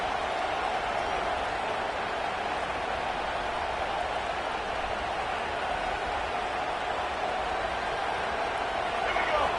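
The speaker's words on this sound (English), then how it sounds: "This crowd bringing the energy and noise early." A large football stadium crowd roars in a steady, dense wash of noise that holds at a constant level throughout, with a commentator talking over it.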